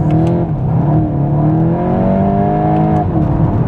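A 2026 Volkswagen Golf 8.5 GTI engine revs loudly and steadily up through its range, close and sustained, with rising and falling pitch as it accelerates.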